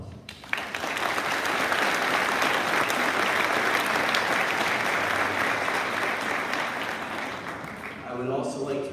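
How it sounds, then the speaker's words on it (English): A graduation ceremony audience claps in a long, loud, steady round, many hands filling the space without a gap before the applause thins at the end and a voice begins to speak. "You deserve a round of applause."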